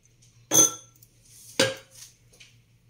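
A spoon stirs and mixes a dessert in a bowl, giving two distinct utensil-on-bowl clatters about a second apart and then a few faint scrapes, close by with a quiet background hum.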